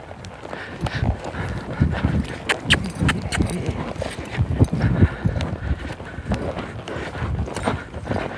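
A horse running in a barrel racing arena, its hoofbeats drumming in a steady fast rhythm amid dusty arena noise, fairly close and continuous throughout.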